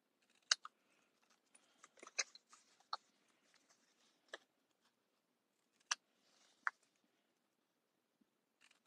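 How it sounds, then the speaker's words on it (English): Scissors angle-cutting the tabs of a paper gift box, sparse sharp snips and clicks scattered close to the mic with quiet gaps between cuts, no talking. "Now I'm going to take these shorter tabs on both the top and the bottom, and I'm going to angle cut so that they tuck nicely into the box."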